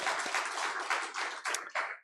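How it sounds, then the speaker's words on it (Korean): A church congregation claps together during a Sunday worship service, a steady dense patter of many hands that briefly dips and swells near the end. "우리 하나님께 영광의 박수 올려드리겠습니다"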